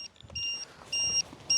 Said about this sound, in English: There's more beeping from the Vector than there is from the NX7E.